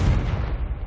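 Confringo blasting spell exploding in Hogwarts Legacy: a single loud, deep boom with a rumbling low-end tail that holds strong throughout, alone with no voices.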